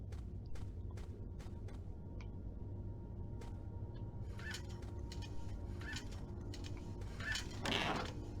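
Caged birds in a room in the video game Indigo Prophecy give scattered faint chirps and short clucking calls against a quiet, steady room tone, and a louder flurry comes near the end.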